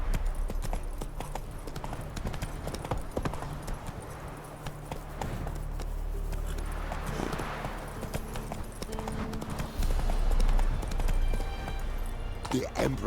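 Roach, a horse in The Witcher 3, gallops with a steady run of clip-clopping hooves alongside game music and ambience, with a voice speaking over it.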